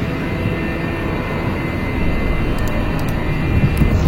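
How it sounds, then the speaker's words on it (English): Spaceship cruise engines engaged in a video game give a steady, broadband jet-like roar that swells slightly toward the end, with faint high clicks near the close. "so we can engage our cruise engines as we saw earlier"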